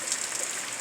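Steady rain falling, a soft continuous hiss of drops pattering on surfaces, faint and even with no voices.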